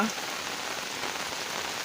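Steady rain falls on surfaces as a dense, even hiss, close and constant throughout, with no talking, in a hill area near the Bhutan border.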